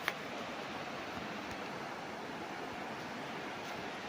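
A strong river current rushes past a bamboo-lined bank on farmland in Majayjay, Laguna, a steady dense roar of flowing water, even and unbroken, with no voices over it.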